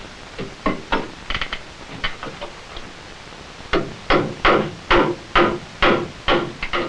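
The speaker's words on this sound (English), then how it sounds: "Now it's also necessary to toe nail the joist into the beam on both sides." Sharp hammer blows toe-nail a wooden joist into a beam, first in scattered light taps, then after a pause in a fast run of about ten loud, evenly spaced strikes, close by.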